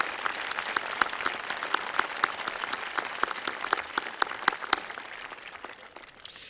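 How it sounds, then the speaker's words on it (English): A graduation audience at Cedar Springs Public Schools applauds, with individual crisp hand claps clearly separable in a steady rhythm above a softer crowd of clapping that tapers off at the end. "Let's give her one more round of applause"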